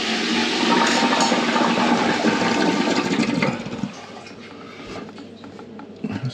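A Saniflo macerating toilet is flushed: a loud, close rush of water and pump churning for about three seconds, then a drop to a quieter gurgling hum, ending with a faint clunk.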